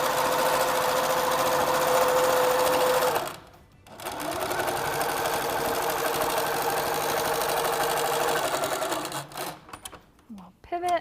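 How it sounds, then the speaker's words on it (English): A Little Rebel sewing machine quilts through a project, running loud and steady with a brief pause near the middle, then stitching again before slowing and stopping. "the Little Rebel is perfect for this project. All of your quilting just glides right through the machine."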